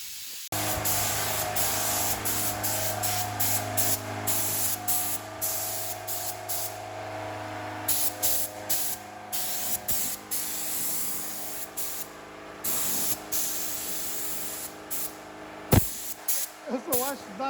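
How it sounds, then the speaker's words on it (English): A spray gun hisses steadily while lacquering a panel on a VW Golf MK5 1.9 TDI DSG, a close continuous spray broken by short pauses and trigger releases, with a voice speaking over part of it. "I'm just gonna lacquer it."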